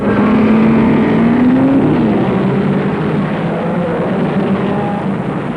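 Formula 1 race cars from 1956 at the start at Silverstone, engines roaring loud and close with rising revs, a sustained wall of engine noise with pitch sweeping upward as the field pulls away.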